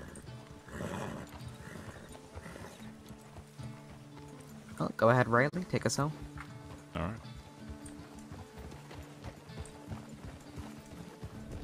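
Horse hooves clip-clop in the RedM western roleplay game as a rider heads back east from Fort Mercer, a steady rhythm under frequent talk, with a brief whinny partway through.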